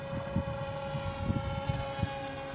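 A homemade radio-controlled model airplane built from PVC, on its first flight, drones steadily at a distance with a constant motor whine and light wind-buffeted bumps, no voices.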